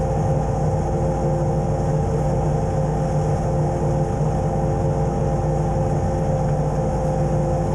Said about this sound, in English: The tractor's doing a nice job pushing it back.